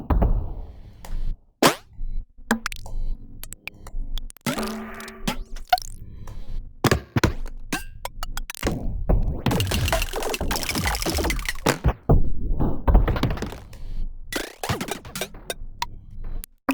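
Synthesized sound effects in Ableton triggered repeatedly on one note, each hit a different percussive thunk, splash or pour-like burst, irregular and separated by short silences, growing denser and noisier toward the end.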